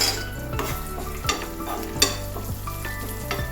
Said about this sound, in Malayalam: നമുക്ക് മുന്തിരിയും കൂടെ ഇട്ട് കൊടുക്കാം.